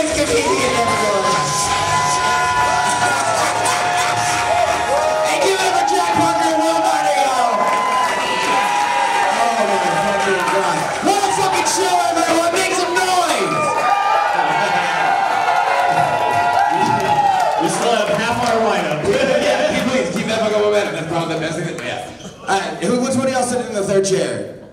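Comedy show audience at Basic City Beer Co. cheering, whooping and clapping in a sustained, loud burst that fades out near the end, with scattered shouts and laughter through the crowd noise.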